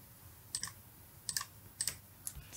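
Computer keyboard keys clicked in four small clusters of quick taps, close and fairly quiet, with pauses between, while code is pasted into a document.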